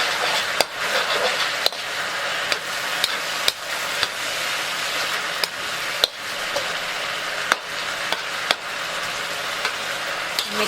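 Char kway teow being stir-fried in a wok with two scrambled eggs, a loud dense sizzle under sharp regular clacks of a metal spatula striking the wok every second or so.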